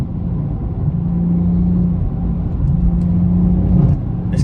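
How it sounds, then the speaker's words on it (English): A BMW's exhaust drones loudly and close by, with the engine note rising and falling through two sustained revs over a low rumble. "It gets louder and louder the hotter the exhaust gets."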